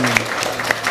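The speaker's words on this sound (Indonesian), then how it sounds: "Tepuk tangan untuk Syah Putra Aulia ya." Audience applause at an Indonesian television event honoring street children, a steady wash of clapping lasting under a second and carrying on beneath the host's voice.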